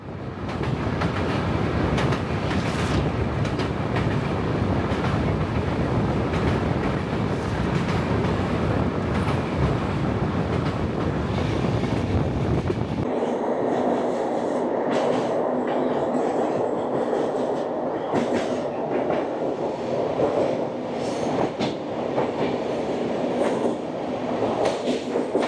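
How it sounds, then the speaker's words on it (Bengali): The Sealdah Ajmer Express rolls between Gaya and Koderma with a loud, steady rumble and rhythmic clickety-clack of wheels. Partway through, the sound abruptly shifts to a thinner, more muffled interior ride noise that continues steadily. "আমাদের ট্রেন ছেড়ে দিল গয়া জংশন, পরবর্তী স্টেশন কোডারমা জংশন।"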